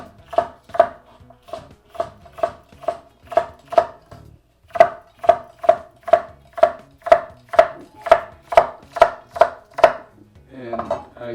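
A knife chops trimmed celery on a cutting board in a steady, even rhythm of about twenty crisp strikes, close and clear with a brief pause partway through and no talking.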